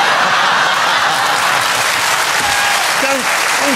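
Loud, continuous studio audience applause on a television talk show, dense and steady throughout, with faint voices and a brief laugh-like vocal rising near the end.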